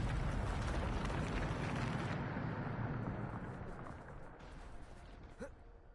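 The Bombarda explosion spell goes off in the video game Hogwarts Legacy as a loud, broad rumbling blast that fades slowly over several seconds, ending with a faint short whoosh.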